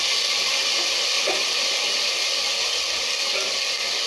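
Ginger garlic paste frying in a pan, a steady close hiss and sizzle with no talk.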